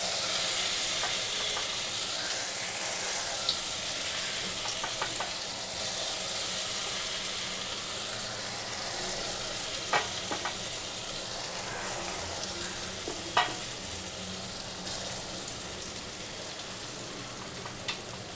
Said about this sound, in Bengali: বড়াগুলো সব বন্ধুরা আগে ভেজে নিই আমি।